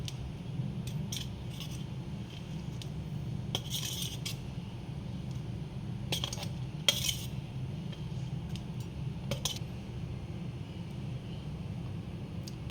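Chana dal is stirred into a sweet laddu mixture in a metal pan, with bright intermittent metallic clinks and scrapes of the spoon over a steady low background hum. No one speaks.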